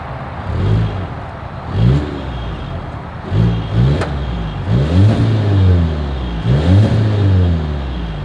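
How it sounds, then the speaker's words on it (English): A 2022 Volvo XC60 B5 exhaust as the engine is revved repeatedly, several loud rising bursts that fall back to a steady idle between blips, heard close up with no talking. "As always, here is that exhaust clip."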